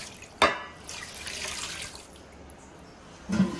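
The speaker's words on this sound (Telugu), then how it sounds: "ఇదిగోండి, వాటర్ కూడా పోసేసుకుంటున్నాను." Water poured into a pan of fish curry being cooked with tamarind and salt, a short near splash and gurgle at the start, then a brief second pour at the end.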